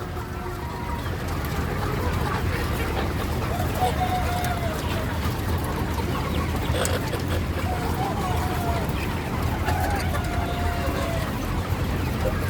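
Chickens cluck and call intermittently against a constant background of low rumbling noise, with a few clearer clucks rising now and then.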